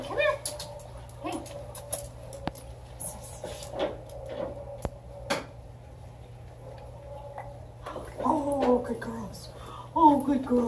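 A puppy whimpers and yips in short, high, close cries, scattered and irregular, with a steady ticking underneath and a few louder yelps toward the end.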